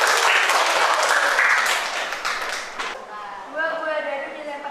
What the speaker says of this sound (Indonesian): Oke, kasih tepuk tangan untuk kelompok 1.